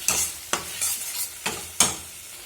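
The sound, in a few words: stir-frying spice paste with onion and garlic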